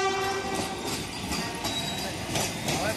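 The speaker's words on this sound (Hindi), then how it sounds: "देखिए वंदे भारत आ गई है।" A Vande Bharat Express rolls into Patna Sahib station, a loud steady rumble of wheels and carriages with a horn tone at the start and faint squeals over the platform.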